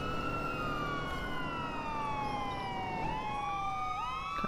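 An ambulance siren in the video game Watch Dogs 2 wails, sweeping up and down over a steady engine-like rumble, moderately distant, with no talking.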